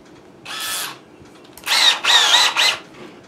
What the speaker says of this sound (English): I drill it.